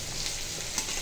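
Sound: potatoes added to chicken curry, simmering in pan

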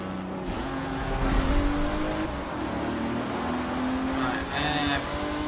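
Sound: race car engine revving, video game

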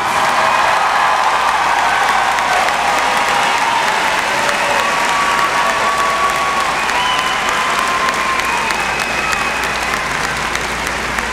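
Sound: graduation audience applause

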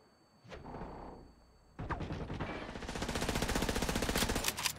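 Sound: gunfire from enemies shooting each other in The Division 2 video game

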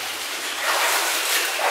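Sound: rushing water in an underground placer mine

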